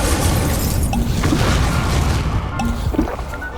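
Incendio fire spell cast in the Hogwarts Legacy video game: a loud, booming fiery blast with crackling bursts and pops layered over dense rumbling game noise, sustained throughout without speech.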